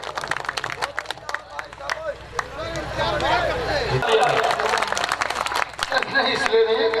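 Audience clapping at a mushaira Urdu poetry gathering in Raniganj, Pratapgarh, beginning as scattered claps and swelling into steady, strong applause from the crowd, with voices murmuring underneath.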